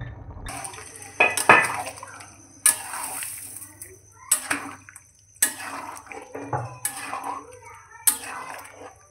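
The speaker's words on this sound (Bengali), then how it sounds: "এবার একটু বন্ধুরা জল দিয়ে দেবো।" Water is poured into a cooking pan on a home stove, with clattering of pots and utensils, splashes and a brief burst of sizzling, in intermittent clanks and bursts close by.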